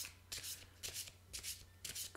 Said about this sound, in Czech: Na to vytáhnu další kartou.